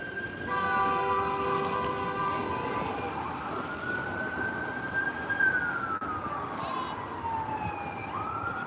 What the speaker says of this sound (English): they're doing their sirens